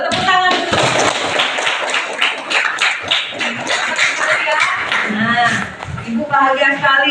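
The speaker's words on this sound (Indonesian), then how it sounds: "Tepuk tangan." A class of schoolchildren clapping their hands together in a classroom, a burst of quick, close claps blending with children's voices talking over and between them.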